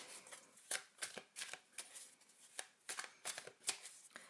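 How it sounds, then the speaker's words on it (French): Tarot de Marseille cards being shuffled by hand, a rapid series of crisp papery riffles and slaps in irregular bursts, close and quiet with no talking. "Donc, vous battez vos cartes."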